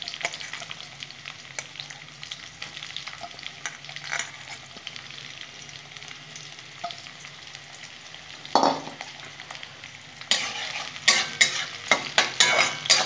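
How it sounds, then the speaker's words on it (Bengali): Onions frying in a pan until reddish, a steady sizzle with scraping stirs throughout, louder bursts of stirring and utensil clatter near the end, no talk. "পেঁয়াজগুলো একটু লাল লাল করে ভেজে নেবো"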